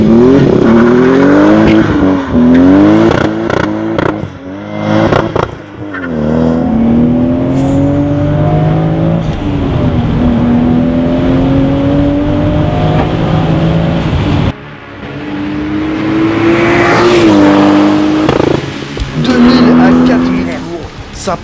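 Toyota Supra MK4 engine revving and accelerating hard, loud and close, with rising pitch sweeps through repeated gear changes and a brief lift near the middle.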